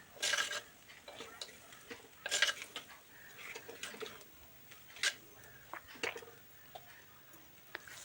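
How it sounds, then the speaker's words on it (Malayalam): Spoon stirring a turkey berry curry with turmeric and spices in a pot, soft scattered taps and scrapes, faint and intermittent. "ഇത് മൂന്നും കൂടി നന്നായിട്ട് മിക്സ് ചെയ്യുക"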